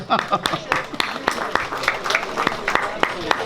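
Gathered highlanders clap at an outdoor Mass for the blessing of a Saint John Paul II monument, with scattered, uneven claps from a modest crowd under laughter and voices.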